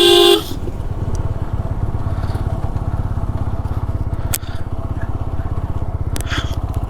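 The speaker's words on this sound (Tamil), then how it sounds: "அதனால தான் இந்த லாங் ஹார்ன்." A loud vehicle horn blasts briefly at the start during a monsoon group motorcycle ride in Kerala, then a motorcycle engine drones steadily up close.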